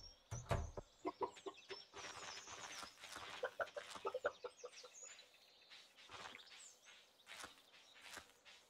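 Chickens in the farming video game Stardew Valley cluck and squawk in short bursts, several birds calling close by with soft, irregular clucks that thin out into quieter chatter toward the end.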